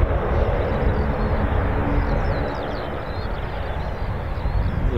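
A heavy military aircraft taxiing toward runway 28 at an air base makes a loud, steady engine roar and rumble that holds constant without a break.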